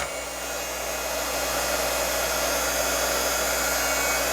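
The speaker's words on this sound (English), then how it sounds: "you just need to hit them with the heat gun" A heat gun blows continuously at close range with a steady, loud airy whoosh and motor hum while heating a card for embossing, with no talking.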